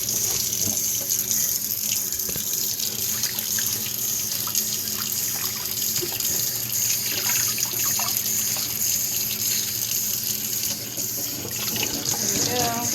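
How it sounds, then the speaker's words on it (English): A kitchen tap runs steadily as fresh spinach is rinsed under it, a continuous close splash and hiss of water filling the sink for the whole stretch. "Nice, good rinse."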